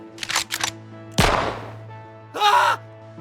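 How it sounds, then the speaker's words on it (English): Gunshot sound effect in a narrated story, a sharp loud crack that fades, set among other short dramatic effects and cries. "A gunshot rang out as William fired at Smith's chest."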